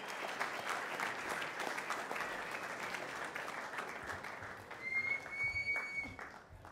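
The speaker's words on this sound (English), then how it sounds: "Big round of applause, ladies and gentlemen," Sustained audience applause at an awards night for surfing films, steady dense clapping for several seconds with a brief whistle-like tone near the end.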